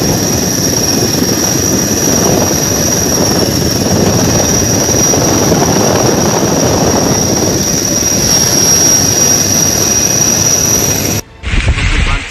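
Rescue helicopter flying over monsoon flood waters in Gujarat, its loud, steady rotor and engine drone filling the air continuously before cutting off abruptly near the end.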